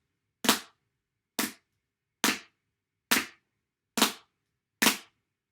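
Six sharp, crisp drumstick strikes at an even, unhurried pace, each a light stroke followed almost immediately by a harder one, a quick percussive crack with brief decay and silence between.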